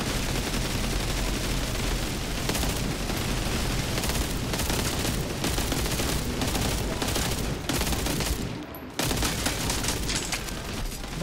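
Rapid, continuous gunfire in the World War Heroes shooting game, dense bursts of automatic shots and booms close up, with a brief lull near the end before firing resumes.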